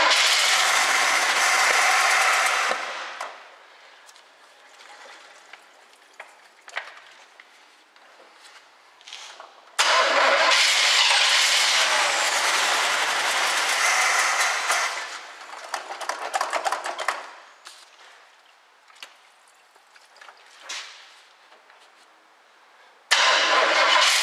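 A 1967 Chevy Camaro engine with a fuel supply problem is cranked in long, loud starter bursts that fail to catch, separated by quieter pauses with small clunks and movement, then a final short crank attempt.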